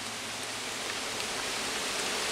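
Heavy rain pours down in a soaked forest during a storm, a dense, continuous roar of water with no breaks, loud and enveloping, with no voices.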